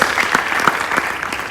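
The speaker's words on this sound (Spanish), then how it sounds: "Den un aplauso de fe al Rey de Reyes y Señor de Señores." A church congregation claps during a Sunday service, a dense, steady round of applause heard from within the crowd for a short stretch.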